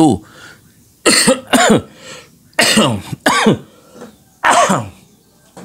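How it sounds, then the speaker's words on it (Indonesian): A man coughs in several loud, close bursts, two or three hacks per cluster separated by short pauses, with no other sound between them. "batuk terus dari kemarin"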